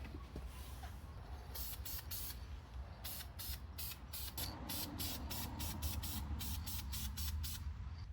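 VHT caliper paint sprays from an aerosol can onto BMW E46 brake calipers in a series of short, quiet hissing bursts that come in a quickening rhythm, with no talking.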